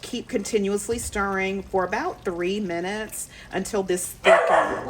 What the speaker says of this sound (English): Sorry, y'all, that's our dog